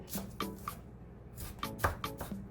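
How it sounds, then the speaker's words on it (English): A knife chopping scallion on a cutting board for salmon cakes, a handful of crisp, irregular taps close by, with quiet pauses between strokes. "Make sure you cut this up real fine."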